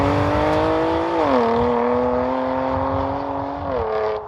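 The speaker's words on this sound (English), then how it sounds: "when you floor the throttle in Sport Plus mode, initially you hear a quite nice metallic sound to it" A BMW M2 Competition fitted with a Milltek equal-length exhaust revs loudly and close by, with a metallic, rising engine note that climbs, dips at a shift, holds, then drops again.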